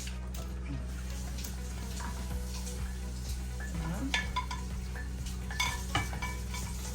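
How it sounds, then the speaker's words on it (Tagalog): Chicken being stirred in a cooking pot, with soft scraping and clinking of a utensil against the pot over a steady low kitchen hum and faint sizzling, broken by a few sharper knocks. "Halo yung chicken"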